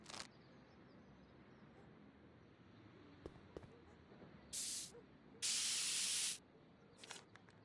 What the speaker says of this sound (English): Give me a can of spray paint.